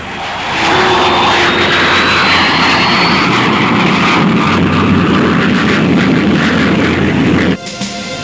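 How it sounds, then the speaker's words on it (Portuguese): An American U-2 high-altitude spy plane drones past loudly with a steady engine roar and a slowly shifting whine, holding strong for several seconds before cutting off abruptly near the end. "aviões para grandes altitudes, como este U-2 americano"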